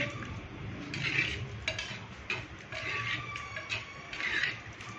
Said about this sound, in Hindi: ये देखिए आप करीम को भूनेंगे।